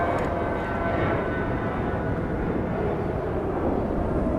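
A Cessna Citation Latitude business jet taxis and powers up at Dallas Love Field, a steady broad engine roar heard from a moderate distance with no talk.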